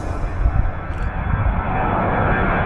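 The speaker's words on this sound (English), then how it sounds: "As the tower clears another plane for takeoff" An airplane takes off at Budapest Airport, a loud continuous roar of aircraft engines heard from fairly close throughout.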